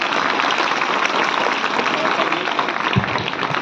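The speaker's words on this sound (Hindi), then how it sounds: "जोरदार ताली बच्ची की कविता के" An audience applauds after a young girl recites a patriotic poem at an Independence Day event, a dense, steady burst of clapping that fills the whole clip at close range.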